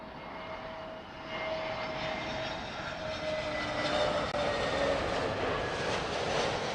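A Scandinavian Airlines aircraft in a modern livery passes at Heathrow, a continuous jet roar with a faint whining tone that swells slightly toward the end, heard alone.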